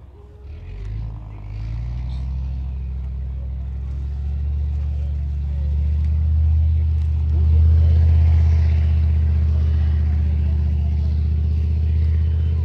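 Leopard 1 tank fitted with a mine plough, its diesel engine droning low and steady, building gradually louder as it drives, with a brief distant voice early on.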